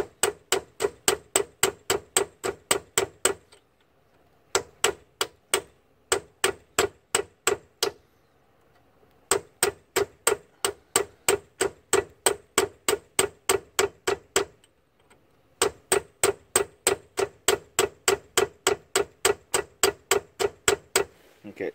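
A hammer strikes a chisel against a rusted front wheel bearing, steady rapid metallic blows in several long runs separated by short pauses, close and clear, no talking over them.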